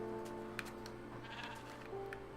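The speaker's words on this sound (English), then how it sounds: "If that's a sheep behind the tree, you should go punch its hair off." Sheep bleating in the Minecraft video game, a few short bleats over a steady game background, faint and somewhat distant.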